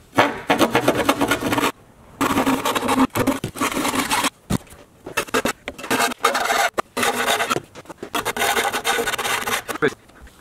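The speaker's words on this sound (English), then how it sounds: "the hacksaw" Steady back-and-forth hacksaw strokes rasp through metal during a Honda CB125 cafe racer build, loud and close, coming in bursts separated by brief pauses.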